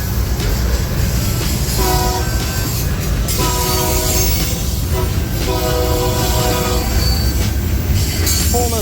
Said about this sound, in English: Pulling a tiny little train going through here.